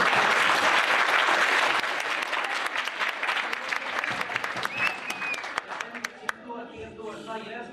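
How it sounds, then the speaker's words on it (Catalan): Audience applause at a school award ceremony, loud sustained clapping that gradually thins into scattered individual claps and fades toward the end. "Bon aplaudiment per Rafael Campalans"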